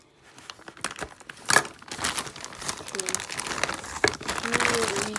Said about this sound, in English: Let's get this guy out of the package. So there's some tape here. You can cut that.